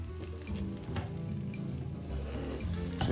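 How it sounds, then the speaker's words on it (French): Tamagoyaki omelette egg sizzles and fries steadily in an oiled pan, a continuous close crackle with occasional scraping stir sounds and no talking. "J'huile de nouveau un peu cette partie-là."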